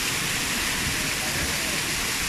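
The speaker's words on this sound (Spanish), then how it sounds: "Está bastante bonita esta cascada" Waterfall at Misol Ha in Chiapas, a steady broadband rush of falling water that fills the whole clip evenly, with no breaks or distinct events.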